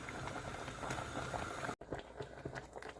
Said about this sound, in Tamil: இப்போ நம்ம குழம்பு நல்லா கொதிக்க ஆரம்பிச்சிருச்சு